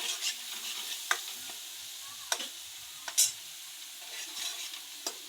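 Masala sizzling and frying in a pan while being stirred, with scraping spoon strokes and sharp clinks every second or so over a steady, soft hiss.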